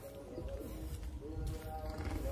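Pet pigeons coo softly in low, rolling calls over a dull background hum, faint and fairly close, with a few scattered knocks and no talking.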